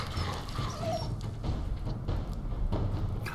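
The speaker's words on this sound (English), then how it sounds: "Oh look, doggy." A dog in the video game Fallout 4 whimpers and gives a few short yips, fairly close and persistent across a few seconds over steady game background noise.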